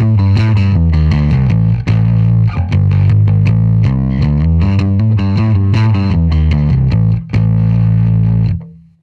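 A bass guitar played through a universal, modern all-round overdrive distortion gives a loud, continuous, gritty riff of repeated notes. It plays for several seconds and ends on a sustained note.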